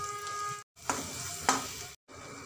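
Mustard seeds, cumin and ground masala sizzle in hot oil in a pan with a steady, close frying hiss. Two sharp crackles break through, and the sound cuts out briefly twice.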